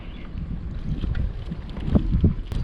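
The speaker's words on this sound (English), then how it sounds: "The wind's up very high and we're getting fish." Strong wind blows outdoors beside an urban freshwater drainage channel in Melbourne during fishing, buffeting the microphone with a low, continuous rumbling roar that swells toward the end.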